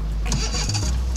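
A car engine starts up nearby, a brief cranking whir settling into a low rumbling idle, loud and close.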